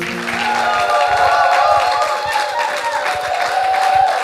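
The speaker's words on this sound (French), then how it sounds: "Ces acclamations, ces cris de joie" A crowd at a live church service cheers and applauds, with scattered claps and shouts of joy over sustained sung or held tones, loud and continuous throughout.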